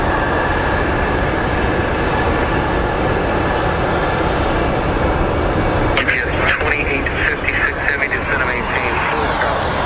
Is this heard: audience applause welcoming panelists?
no